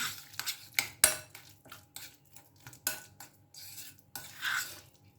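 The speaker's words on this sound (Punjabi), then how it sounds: "ਹੁਣ ਚੰਗੀ ਤਰ੍ਹਾਂ ਇਹਨੂੰ ਮਿਕਸ ਕਰ ਲਾਂਗੇ" Spoon scraping and clinking in a bowl while mashed avocado is mixed with lemon and salt, a run of close, irregular taps and scrapes with a few sharper clinks.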